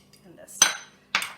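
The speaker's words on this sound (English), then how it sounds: "Now I'm going to give it a good mix." A spoon stirs tamarind chutney into chole in a bowl, producing two sharp clinks of metal against the bowl with a soft scrape between them, close and brief.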